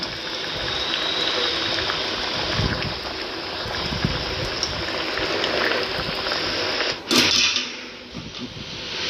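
Chicken curry boils steadily in a pot, giving a continuous close bubbling and hissing wash with no talk, swelling briefly near the end.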